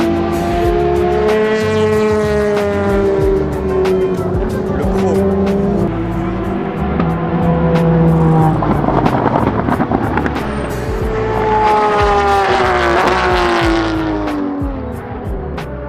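WEC endurance race cars, including LMP1 prototypes, scream past flat out on the long straight at Circuit Paul Ricard, with several loud engine notes rising and falling in pitch as they approach and pass close by, one after another.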